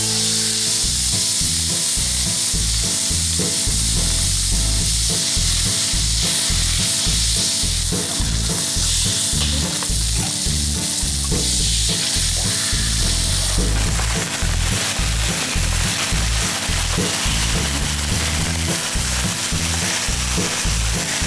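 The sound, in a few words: steak pan-frying and sizzling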